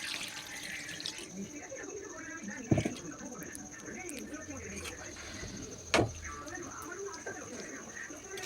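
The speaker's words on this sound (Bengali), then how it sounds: "এবারে জল দিয়ে দেবো।" Water poured into a pot of cooking meat, a steady faint splashing pour with a couple of sharper knocks, heard under a person talking.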